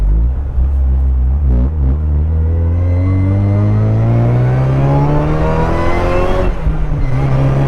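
A supercharged 1994 Mazda Miata engine revs up loudly and smoothly, its pitch climbing steadily through the gears, close and powerful with no voices.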